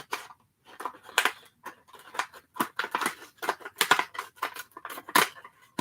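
Scissors snipping open the card packaging of 1995 Kenner Star Wars Power of the Force action figures, a rapid series of close, sharp cuts and crinkles with brief gaps.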